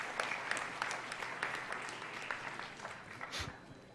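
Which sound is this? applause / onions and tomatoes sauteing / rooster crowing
applause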